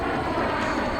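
Lockheed aircraft flying an inverted pass at an airshow, a steady loud roar of engine noise filling the whole moment without pause.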